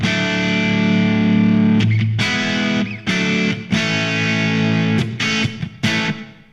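An electric guitar plays loud, crunchy chords through a NUX MG-101 multi-effects unit set to a Marshall amp model and miked with a virtual SM57. The strummed chords are dense, with brief choppy breaks between them.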